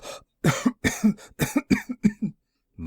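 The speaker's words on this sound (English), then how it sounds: "How long have you had that cough?" A rapid string of harsh coughs, about eight or nine in quick succession, close and loud, trailing off before a brief breath at the end.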